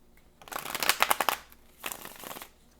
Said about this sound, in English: we're going to do one more shuffle after this.